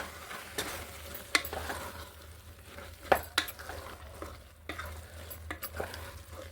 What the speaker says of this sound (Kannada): ನೆಕ್ಸ್ಟ್ ನಾನು ಕಾಯಿ ಹಾಲನ್ನ ಆ್ಯಡ್ ಮಾಡ್ಕೊಡ್ತೀನಿ